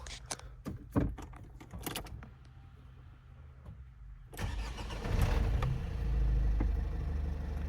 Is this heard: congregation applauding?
no